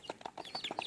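A friendly chicken being hand-fed near a house gives a quick series of soft, close clucks, about seven short bursts in one second, with no talking.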